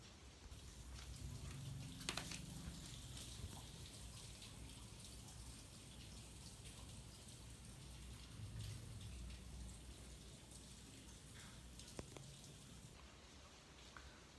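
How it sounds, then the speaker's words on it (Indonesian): Faint, steady rain falls outdoors, a soft continuous patter with scattered drips and occasional louder taps and no talking. "Ini sekarang lagi hujan teman-teman,"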